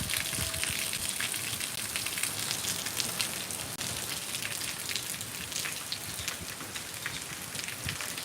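Heavy rain pours down in a dense, steady hiss, close and unbroken, pattering hard on surfaces with no voices over it.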